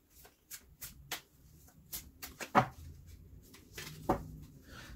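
A deck of tarot cards shuffled by hand in a quiet room, soft repeated riffling and tapping bursts at an uneven rhythm, close but faint.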